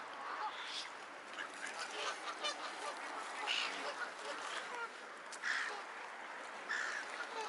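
Several swans call with honking, goose-like notes on an island shore, scattered calls rising at intervals over a steady outdoor background, with a person talking nearby.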